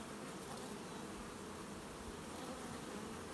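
Honey bees fan and buzz at a busy hive entrance on a very hot day, a dense, steady hum of many wings, faint and continuous with no voices.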